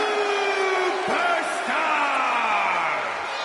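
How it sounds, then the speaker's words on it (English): Arena crowd in the WWE 2K25 wrestling video game roars and cheers continuously for a superstar's entrance, a loud sustained swell with tonal whoops and a voice over it. "It's great to hear the crowd give this superstar the reception he deserves"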